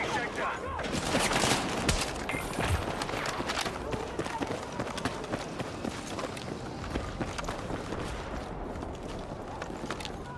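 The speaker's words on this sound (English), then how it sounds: "Thought I heard footsteps." Rapid running footsteps in the Battlefield 6 shooter sound amid dense, continuous gunfire and battle noise, loud and crowded throughout.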